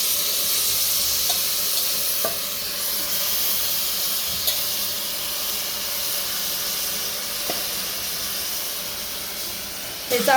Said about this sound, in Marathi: चांगलं परतून घेऊया एक जीव काढायचा आहे चांगलं मिक्स होईपर्यंत परतायचं आहे